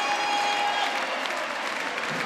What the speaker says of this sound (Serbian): novosadska publika da pozdravi sjajnu igru novosadskih odbojkaša